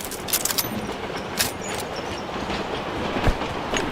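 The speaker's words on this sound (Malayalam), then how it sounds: "The train is now approaching." A train in BGMI/PUBG rumbles past with a steady rolling clatter and a few sharp metallic clicks, moderately loud and continuous, with no talk over it.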